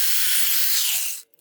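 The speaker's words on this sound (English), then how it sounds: "And now the fun part, drilling holes, yay." A drill with a 1/8 inch bit bores a hole into a wooden wall stud, giving a steady high-pitched whirring grind that stops abruptly after about a second, followed by faint clicks.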